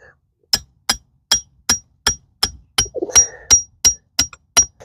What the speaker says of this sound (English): I'm going to use the hammer to bang it down.